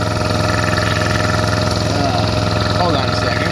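A 1.8 horsepower Code E electric motor runs on power from an 8000-watt inverter, giving a steady, loud mechanical hum with a constant drone for several seconds while a compressor setup sits nearby.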